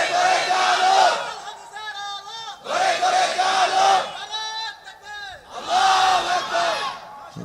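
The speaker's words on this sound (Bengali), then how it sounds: "তাকবীর দাও" A crowd at an Islamic sermon shouts the takbir in unison three times, each loud, swelling chant separated by short pauses.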